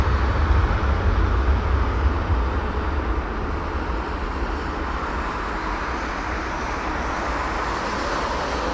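An Etihad Boeing 787-10 is heard at Heathrow Airport as a steady broadband jet roar. It is loudest in the opening seconds and then settles into a constant, slightly distant rumble with no voices.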